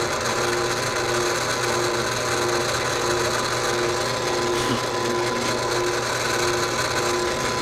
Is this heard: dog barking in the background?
no